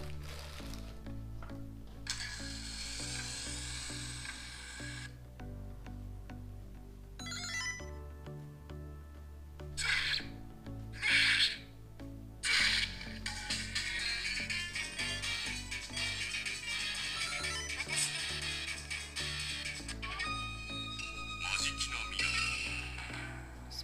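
Arcade game jingles and electronic beeps play from a Neo Geo Mini handheld console, a busy run of synthesized chiptune notes and effects at moderate volume with no talking.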